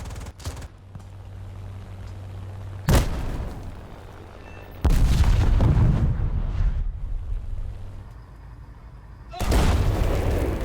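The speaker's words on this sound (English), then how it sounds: "There has also been added a mid-frequency layer to explosions of shells and bombs close" Shells and bombs explode in the War Thunder video game, with several heavy booms at irregular intervals. Each sharp blast is followed by a loud, rumbling decay, and a quieter low hum runs between the hits.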